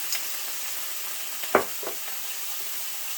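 Pork chops frying in oil give a soft, steady sizzle with a few sharper stirring scrapes and clinks in the middle, heard close and on their own.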